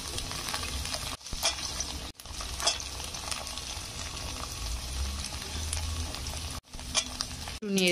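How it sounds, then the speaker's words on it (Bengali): Soaked chickpeas sizzle and fry in hot oil in a home kitchen, a continuous crackling with scraping stirring strokes and brief pauses, close and fairly loud with no talking. "একটু ভাজা ভাজা হয়ে এলে এখানে আমি দিয়ে দেবো ভিজিয়ে রাখা ছোলাগুলো।"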